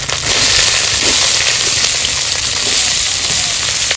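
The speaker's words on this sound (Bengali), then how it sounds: "ফোড়নে দিয়ে দেবো একটা শুকনো লঙ্কা, 5 ফোড়ন, আদা রসুন বাটা দিয়ে দেবো, কুচানো পেঁয়াজ" A mustard-oil tempering of dried chili, five-spice seeds, ginger-garlic paste and chopped onion for dahi bhindi gives a loud, dense, continuous sizzle and hiss close by, with faint crackles running through it and no speech.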